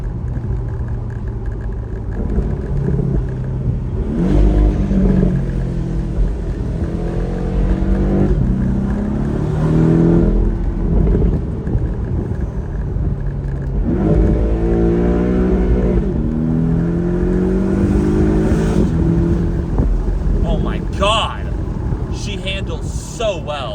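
A 2018 Porsche 718 Boxster engine revs on back roads, rising and falling in repeated strong pulls over steady road and engine drone, loud and close throughout.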